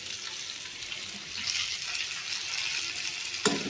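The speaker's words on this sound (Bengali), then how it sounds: "দিয়ে 1 মিনিট মতো নাড়াচাড়া করবো" Capsicum for chilli chicken fries in a pan with a steady bright sizzle, stirred now and then, and a sharp clink of a spatula near the end.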